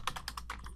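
Someone types a search on a computer keyboard: a quick, close run of about eight crisp plastic key clicks in under a second.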